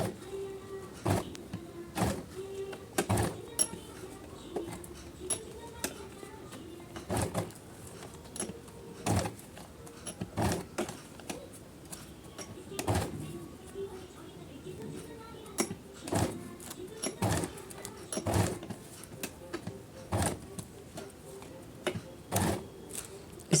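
A sewing machine stitches net blouse fabric in short repeated bursts, each run of rapid clattering separated by pauses, close and clear, with someone talking at intervals between the runs.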